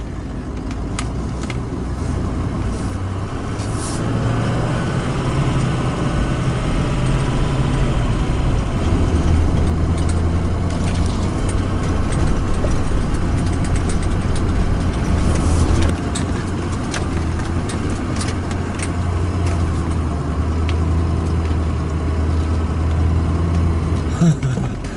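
A four-wheel-drive vehicle's engine labours steadily on a rough track for the whole stretch, a loud, continuous low rumble with shifting load and some road noise throughout.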